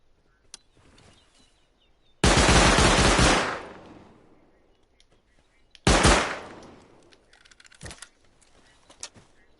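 Automatic gunfire in the survival video game Rust comes in two loud, rapid bursts, each trailing off, with quieter clicks and scattered shots between them.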